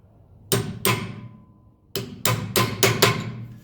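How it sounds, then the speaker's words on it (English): Steel hammer striking a punch to drive pins into a new brake caliper on a 1985 Mercedes 300TD wagon: two sharp metallic taps, a pause, then five more quick, ringing blows, close and loud. "then you just have to tap these in with a punch"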